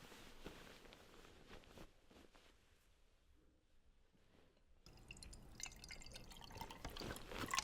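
Cold water is poured into a glass, a soft trickle and drip that grows into a fuller, brighter splashing stream toward the end, faint and intimate, with no talking.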